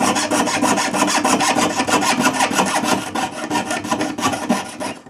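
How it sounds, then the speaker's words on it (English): Close, rapid back-and-forth sawing as a jeweler's saw cuts metal beside the bezel of a cuff bracelet set with a cabochon, a steady rasping rhythm of quick strokes with no talk. "When you're cutting next to the bezel, be careful that you don't actually touch the bezel"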